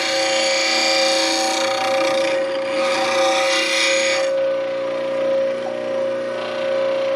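Bench grinder wheel sharpening a bowl gouge into an Ellsworth grind, a steady high whine with a harsh rasping hiss that swells and fades as the steel is pressed against the wheel.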